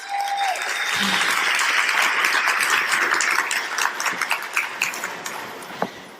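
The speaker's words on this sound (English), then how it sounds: "give them a round of applause" Audience applause at a conference event as a team comes on stage, loud sustained clapping that thins into scattered individual claps toward the end.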